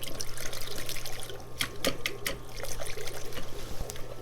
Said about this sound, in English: Now I'm going to take it and rinse it in our bucket, lukewarm water, so we get most of the soil off